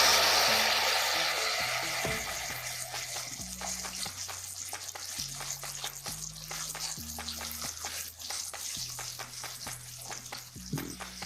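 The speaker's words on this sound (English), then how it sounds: "We'll allow the tomato to fry for a while, so as to get rid of the raw tomato taste" Blended tomato and pepper mix frying in a pan for a stew base: a steady crackling sizzle, loud at first and easing slightly, with stirring scrapes and low background tones throughout.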